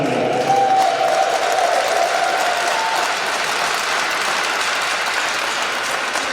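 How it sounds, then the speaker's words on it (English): Sustained audience applause at a Canadian sledge hockey semi-final in an arena, a dense steady wash of clapping from a large crowd that carries on evenly throughout. "let's also give a big round of applause to all the volunteers that made this event happen"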